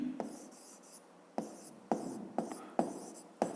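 Handwriting with a pen or chalk during a school physics lesson: a few short scratchy strokes separated by brief pauses, quiet and close, with no talking.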